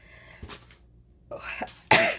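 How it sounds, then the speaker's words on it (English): A single sharp sneeze bursts out near the end, preceded by a couple of short breathy sounds, close and fairly loud. "excuse me, got to sneeze."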